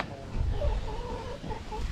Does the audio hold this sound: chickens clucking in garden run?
yes